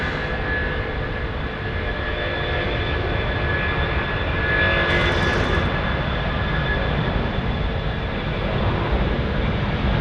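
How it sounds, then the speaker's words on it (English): An Airbus A330 jet takes off at Sydney Airport at night, a broad continuous engine roar with a whining tone that holds loud and steady throughout, heard from a distance without talk. "we've got an A330, Kurt, so let's see it go"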